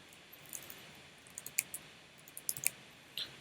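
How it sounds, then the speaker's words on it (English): Sparse, light clicks of keys as numbers are typed on a computer keyboard in a quiet office, a handful of separate taps in small clusters, close and soft. "I'm typing 123."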